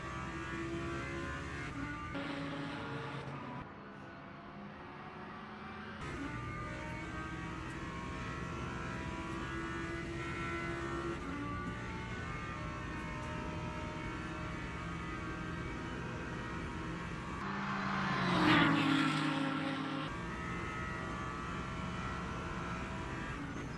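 Race cars running flat out down a straight during an overtake in a 6-hour team championship endurance race at Fuji, a steady engine drone throughout with a louder passing surge near the end.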